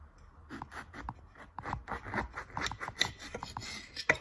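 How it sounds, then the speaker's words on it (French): A knife cuts through a lemon, giving a series of close, crisp cutting and scraping strokes with a rough rhythm and a couple of sharper clicks near the end. "nous allons donc ici couper le citron en deux"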